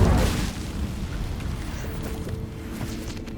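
A deep roaring fire-spell blast from Hogwarts Legacy, loud at the onset and rumbling on as a sustained burning whoosh that slowly fades.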